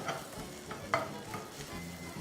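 Onions browning in butter in a pan give a steady, soft sizzle, with faint stirring scrapes close by and no voices.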